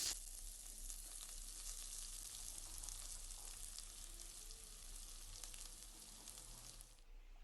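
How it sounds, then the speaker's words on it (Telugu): Thinly sliced onions with curry leaves sizzle and fry steadily in a hot pan for an egg omelette tomato curry, a dense continuous crackle that holds even and close throughout with no talk. "ఈ ఆనియన్స్ అనేది మనం బాగా వేపుకోవాలి లైట్ బ్రౌనిష్ కలర్ వచ్చేంత వరకు వేపుకోవాలి"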